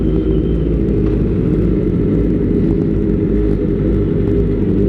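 A Kawasaki ZX25R fitted with an Austin Racing exhaust, likely among several bikes together, gives a loud, deep, continuous rumbling roar that stays strong and steady throughout, close to the listener.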